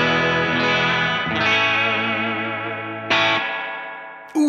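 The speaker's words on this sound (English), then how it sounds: "if I turn it up the other way, it gets something a little bit more echoey and nasty" An electric guitar played through a Keeley Hydra reverb pedal on an echoey, nasty setting rings out in long sustained chords that decay slowly, with a fresh strum midway and another at the end.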